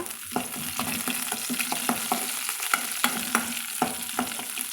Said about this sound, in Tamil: சின்ன வெங்காயம் சேர்த்து நம்ம வதக்கலாங்க ஒரு ஆறுக்கு கருவேப்பிலையும் சேர்த்து நம்ம தாளிச்சுக்கலாங்க